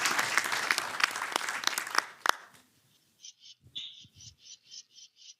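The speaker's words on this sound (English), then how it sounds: "Applause from the audience." An audience applauds after a live en bloc MiLEP surgery demonstration at a medical conference, a dense burst of clapping that fades out after about two seconds, followed by short repeated electronic beeps.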